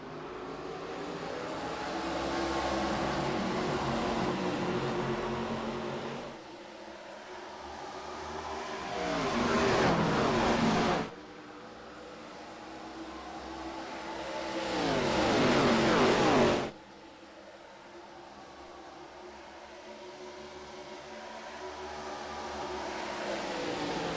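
Race cars in a racing video game at Kansas roar through a restart, engines rising and falling in several long revving surges that build to peaks then drop, with a continuous engine drone between them.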